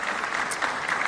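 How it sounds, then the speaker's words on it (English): An audience at an African fintech leaders' summit in Accra breaks into brief, dense hand clapping, a short burst of applause heard up close. "I think that deserves a hand clap"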